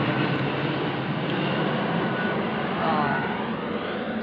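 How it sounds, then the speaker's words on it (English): An airplane passes overhead beneath a murky, overcast sky, giving a steady, broad roar that holds at an even level throughout with a slight swell near the end. "Plane going over, but the sky is so murky"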